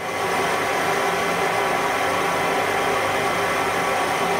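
A Warco GH1440 metal lathe runs at 510 RPM on a variable frequency drive, giving a steady, even hum with a broad whirring hiss and no voices.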